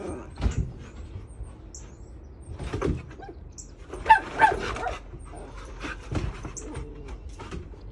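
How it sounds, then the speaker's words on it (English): Neighboring dogs bark in scattered bursts at a moderate distance, a few sharp yips and woofs spread across the stretch with quiet gaps between them. "now we got the neighbor's dogs barking."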